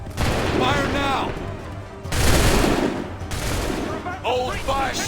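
Musket volleys in the Assassin's Creed III game, dense bursts of gunfire in repeated loud waves, with shouted commands between the volleys.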